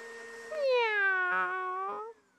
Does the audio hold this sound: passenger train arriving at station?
no